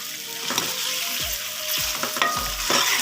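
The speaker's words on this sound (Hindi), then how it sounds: "ये तकरीबन हम 3 से 4 मिनट तक इसको ऐसे ही दरमियानी आंच पे भून लेंगे।" Aloo anda curry sautéing in a pan over medium heat: a steady close sizzle, with repeated scraping stirring strokes and no voices.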